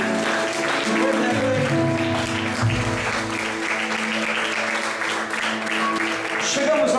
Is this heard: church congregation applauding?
yes